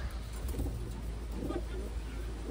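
Taiwan pigeons kept as a pair cooing in a loft, several soft low coos rising and falling close by over steady background hum, with no voices.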